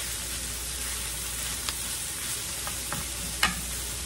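Seasoning being stirred through meat pie filling in a pan, with a steady low sizzle of frying meat and a few soft spoon scrapes and clinks against the pan, close and fairly quiet, with no voices.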